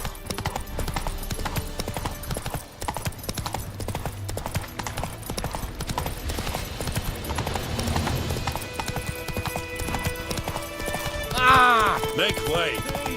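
Roach, a horse in The Witcher video game, gallops with rapid continuous hoofbeats throughout, loud and close, with voices talking over it and a brief whinny or cry near the end.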